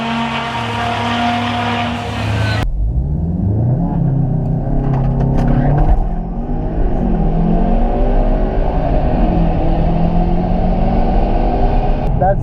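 A turbocharged Volkswagen Golf R Alltrack engine screams as it accelerates hard down a quarter-mile drag strip, revving up through gears with a loud, sustained roar and some tire noise, brief voices faintly mixed in.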